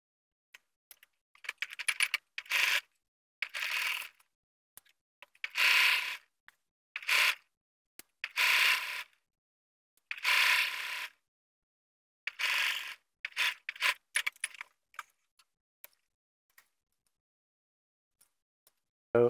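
A sewing machine stitches straight through a fly shield and zipper while making trousers, running in a series of short, loud bursts with brief pauses between them and no talking.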